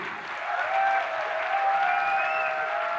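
Audience applause at a company director's speech, a dense, steady wash of clapping from a large crowd with a faint tonal ringing above it, sustained for three seconds at moderate loudness.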